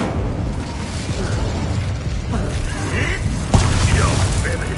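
Confringo fire spell explosions in Hogwarts Legacy: loud, rumbling fiery blasts that churn continuously, then a sharp burst near the end, with a voice speaking over them.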